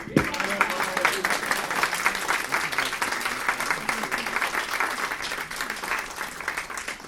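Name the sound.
audience applause and cheers of Viva Rafael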